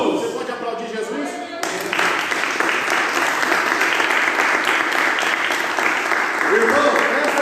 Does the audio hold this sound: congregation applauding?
yes